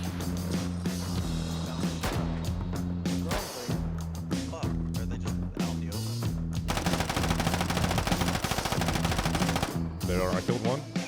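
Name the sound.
gunfire from a VSD rifle in Deadside video game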